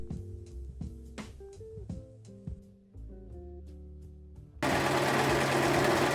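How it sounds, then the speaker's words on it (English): A sewing machine stitches the side and shoulder seams of a dress in short bursts under background music, then a louder steady run takes over near the end. "Then I sewed that in place and quickly pinned the side and shoulder seams right sides together and sewed."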